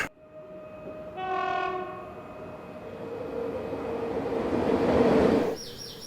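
A train at a railway station in India sounds a short, tonal horn blast over a steady low rumble of rolling stock, which swells louder and closer before fading away.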